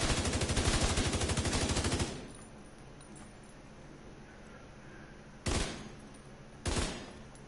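Rapid automatic gunfire in the video game The Division 2, a dense two-second burst of shots followed by quiet, then two shorter bursts that end abruptly, no talking.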